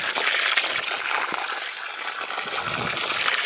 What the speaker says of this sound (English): But right now we're just watering up.